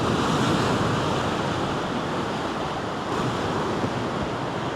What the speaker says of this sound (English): Look at that white water, it's definitely getting thicker.